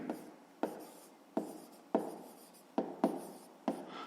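A pen or pencil writes by hand on paper during a fifth-grade maths exercise, giving seven quiet scratchy strokes, each starting with a small tap, close and alone.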